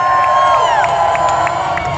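A large crowd cheers and whoops steadily on Daytona 500 race day, a dense roar of many voices with brief higher shouts rising through it, loud and continuous for the whole stretch.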